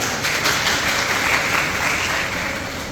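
Seminar audience at a lecture on behaviour applauding, a dense steady wash of many hands clapping that fades slightly toward the end, with no voices over it.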